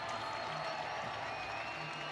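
Arena crowd at a Jacksonville Icemen versus Atlanta Gladiators hockey game roaring and applauding after a fight, a dense, steady wash of distant cheering with faint voices underneath.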